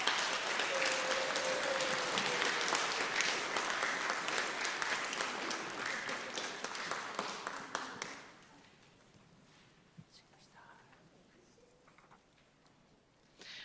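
An audience at a school awards ceremony applauds steadily for about eight seconds, then the clapping drops away to a quiet room with a few scattered sounds.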